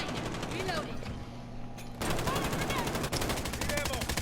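Sustained automatic gunfire from a sentry gun and Juggernauts in a video game survival mode, dense overlapping bursts running throughout with a voice talking over the shooting.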